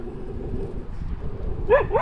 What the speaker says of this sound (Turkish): Şu an için üst mahallenin köpeği gelmiş çok kötü etti.